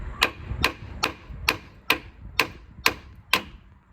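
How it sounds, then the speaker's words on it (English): Seven sharp metallic hammer strikes on the top of a tie rod end on a Citroen DS4 at a steady pace, each ringing briefly, close up with no talking. "Here is the hammer, so basically just hit the top of it."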